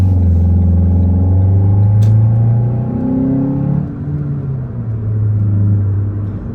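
A 2014 Ford Focus engine hums low and steady while driving down the road, a continuous close rumble whose pitch dips and rises slightly with changes in speed.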